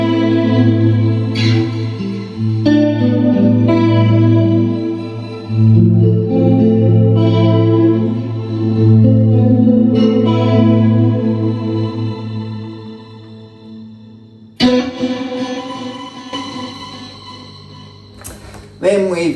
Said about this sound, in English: It's got an amazing crystal delay sort of thing in there that does that 80s clean sort of sound.